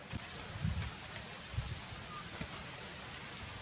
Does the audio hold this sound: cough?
no